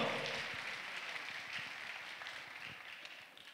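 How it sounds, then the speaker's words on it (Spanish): Audience applause at the opening ceremony of a Peruvian engineering students' congress, fairly quiet and distant clapping that gradually fades over a few seconds. "Fuertes palmas, por favor."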